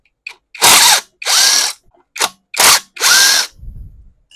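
A power tool works the two 10mm bolts on a Honda GCV200 engine on a Ryobi pressure washer, giving five close, loud whirring bursts of varied length separated by short pauses.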